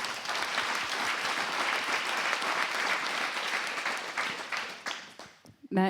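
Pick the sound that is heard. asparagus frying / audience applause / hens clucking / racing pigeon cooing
audience applause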